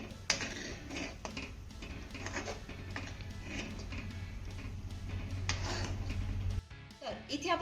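Finely chopped coriander stirred into a pan of kadhi, with light metallic scraping and clinks of a utensil against the pan over a steady low hum, fairly close, with some background speech.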